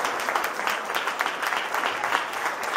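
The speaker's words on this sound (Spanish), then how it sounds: "regálense un fuerte aplauso" Seminar audience applause, dense continuous clapping from a crowd, loud and even throughout the short stretch.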